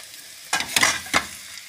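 Noodles are tossed in a pan with cabbage, making a few brief sizzling, rustling stir-fry bursts close by.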